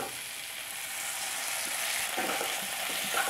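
Capsicum and tomato frying in a pan, a close, steady hissing sizzle that grows slightly louder, with soft stirring scrapes near the end and no voices.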